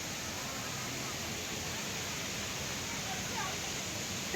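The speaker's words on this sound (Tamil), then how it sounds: "கவி அருவி ஃபால்ஸ் இருக்கோம்" Kavi Aruvi waterfall in Valparai roars as a steady, dense broadband rush, loud and constant, with a faint voice briefly audible beneath the torrent.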